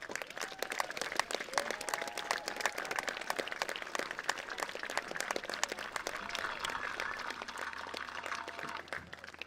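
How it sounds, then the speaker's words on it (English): A large crowd gives sustained applause at a school athletics event, a dense and steady clapping that stays loud throughout. "give them a massive round of applause for that"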